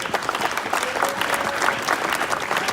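Diners at a civic dinner in Thurrock give a short, close burst of hearty applause, thick and continuous clapping filling the room without speech.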